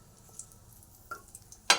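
Spices temper in hot oil for a gooseberry chutney, giving a faint, quiet crackle with a few soft pops and a sharper burst at the end, with no talking.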